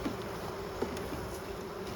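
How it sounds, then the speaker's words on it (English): Honeybees buzz around an open hive during an inspection after a killing frost, a soft, steady drone that fills the background with one brief louder blip and no talking. "Here, have some nice sugar water. That should calm the savage bees, right?"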